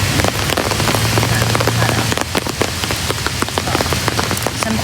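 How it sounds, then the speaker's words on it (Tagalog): Steady rain patters on surfaces at an outdoor plaza, dense and close with scattered sharper drops striking nearby, continuing without pause. "Sa ulan ari ako, diba?"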